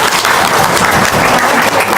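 Audience applause at a gathering, dense and loud, steady clapping from many hands that fills the whole stretch without pause.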